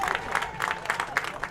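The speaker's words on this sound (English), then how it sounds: "crowd applauding" Spectators at a boys' high school lacrosse game between Ridgefield and Garden City applaud and cheer after a goal, a moderately loud, uneven wash of clapping and crowd noise with voices mixed in.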